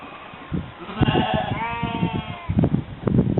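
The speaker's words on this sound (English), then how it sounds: "This is a Shetland sheep" A Shetland sheep bleats in a long wavering cry, close by, with rustling and shuffling noises around it.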